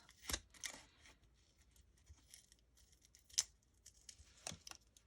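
Scissors snipping through brown grocery-bag paper during a journal-card craft, a few quiet, separate crisp cuts and rustles spaced out over near-silence.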